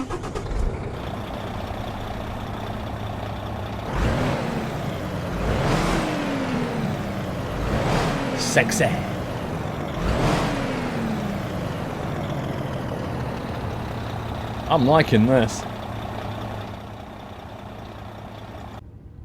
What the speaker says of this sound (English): That's definitely better than default engine audio.